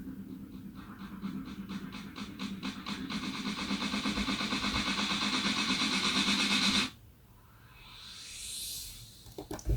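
Electronic build-up effects: layered noise sweeps and three risers swell steadily louder for about seven seconds, cut off abruptly, then a thinner rising sweep returns faintly before the end.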